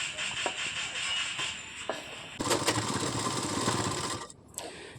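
Sewing machine stitching a seam on a child's Patiala salwar, running in steady rapid bursts with short pauses and a brief stop near the end.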